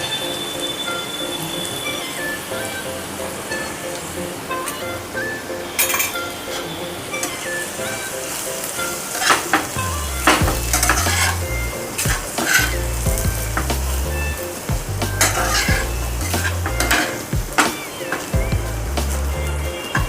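Masala okra frying and sizzling in a pan over a low flame, stirred steadily with bursts of scraping and crackling over a continuous close sizzle, with no talk.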